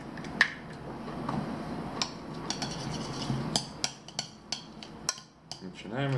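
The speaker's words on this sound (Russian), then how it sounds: "Начинаем это все замешивать." Ingredients being mixed in a bowl for a homemade crab burger, with sharp clinks and taps of a utensil against the dish, irregular and close, over soft rubbing and stirring.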